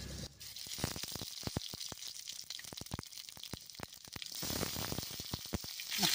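Onion, bay leaf and five-spice seeds fry in hot oil with chicken skin fat, a close crackling sizzle full of sharp pops and spits that keeps going steadily throughout.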